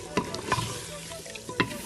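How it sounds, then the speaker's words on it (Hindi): Yogurt is stirred into sizzling chicken korma in a pan, with a soft frying hiss under a few scraping stirs of the spoon. "बिस्मिल्लाहिर्रहमानिर्रहीम करके अब हम इसके अंदर दही भी शामिल कर रहे हैं 1 कप, और ये अच्छे से मिक्स हो जाए"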